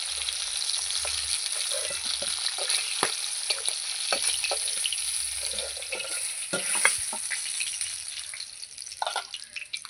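Pomfret fish pieces fry in hot oil, a steady close sizzle with crackling pops and occasional stirring scrapes running throughout, with no talk over it.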